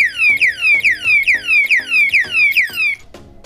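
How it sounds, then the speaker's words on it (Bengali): An anti-theft alarm padlock shrieks loudly with a rapid run of about ten identical descending electronic chirps, then cuts off abruptly, leaving a faint low hum. "টাচ করার সাথে সাথে অ্যালার্মটা বাজা শুরু হবে"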